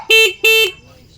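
Two loud, close motorcycle horn honks in quick succession, each lasting about a fifth of a second, with quiet engine rumble afterward.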